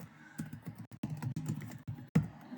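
Quick, uneven clatter of keys on a computer keyboard as JavaScript code is typed, with bursts of keystrokes and short pauses, close and fairly quiet.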